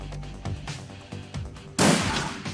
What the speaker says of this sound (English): Shotgun sniper.